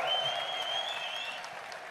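A large esports arena crowd at a world championship semifinal applauds and cheers for Fnatic, a dense, steady wash of clapping with high whistles, easing slightly toward the end.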